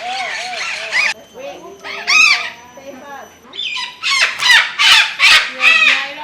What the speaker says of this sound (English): So far it seems like the smaller parrots are the ones which are much noisier.